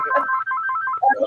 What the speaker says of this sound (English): Answer your phone, Devontae.